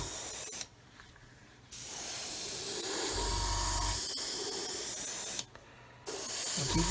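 An airbrush sprays paint onto a Roden 1/144 C-141B Starlifter model aircraft. It gives a steady close hiss that breaks off twice for about a second before it starts again.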